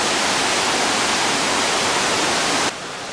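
Devil's Cataract at Victoria Falls, Zimbabwe, pours river water over a 73-metre drop, a dense, continuous roar of rushing water that cuts abruptly to a quieter hiss near the end.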